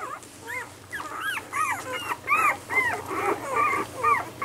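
Eight-day-old puppies whimper and squeal in a rapid series of high, rising-and-falling cries, close and fairly loud, overlapping one another over a few seconds.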